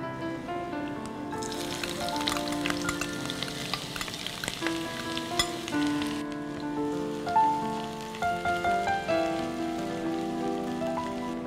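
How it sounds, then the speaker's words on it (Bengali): Onions fry in hot mustard oil with a continuous, crackling sizzle like light rain, heard close and steady beneath tonal background music. "আমি প্রথমে তেল গরম হলে পেঁয়াজটাকে একটু হালকা ভেজে নেব।"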